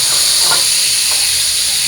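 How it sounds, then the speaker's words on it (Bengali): Pointed gourd and potato pieces fry in hot oil seasoned with cumin and bay leaf, a loud, continuous sizzle with faint stirring scrapes throughout. "তো এবার পটল আর আলুটা আমি ভালো করে ভেজে নেব।"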